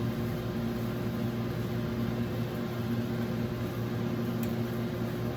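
A microwave oven runs with a steady low hum and even mechanical drone, constant throughout with no other sounds.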